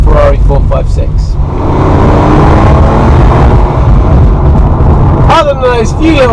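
A Ferrari 456 on the move, its engine giving a loud, continuous roar mixed with road and wind rumble, heard close and unbroken, with a brief rising whine near the end.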